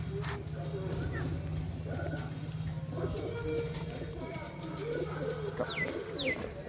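Giribaz pigeons coo in low, rolling bursts close by, repeated throughout, with someone talking over them and a few faint chirps in the background.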